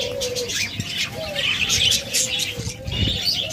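Budgerigars, cockatiels and lovebirds chirp and warble close by in a busy, overlapping chatter of short tweets and whistles, with occasional wing flutters.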